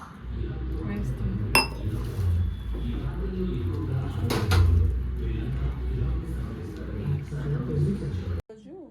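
A spoon clinks and scrapes around a bowl as water is worked into spiced baby corn batter, giving repeated close dish and cutlery knocks with a few sharper taps, ending abruptly.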